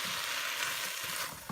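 Canned chopped tomatoes are mixed into frozen okra in a pan, giving a brief, close, hissing sizzle with soft stirring underneath.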